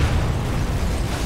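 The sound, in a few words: explosion in the video game Sniper Elite 4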